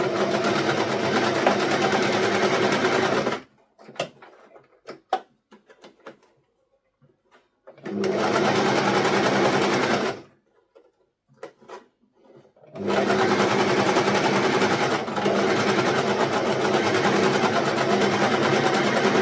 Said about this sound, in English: Then you take it to your machine, sew